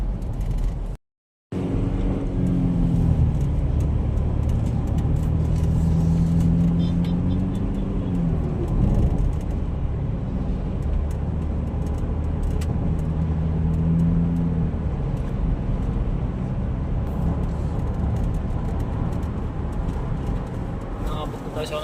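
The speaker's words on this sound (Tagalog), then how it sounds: "Maganda ng takbo ng sasakyan." A 2018 Ford Everest drives along a road and accelerates, with a steady engine drone, rising revs and road and tyre noise. People talk over it throughout, and there is one brief dropout near the start.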